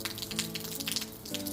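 Rain falls on a garden with grass and pink flowers, a soft continuous patter of close drops and drips at a gentle, even level.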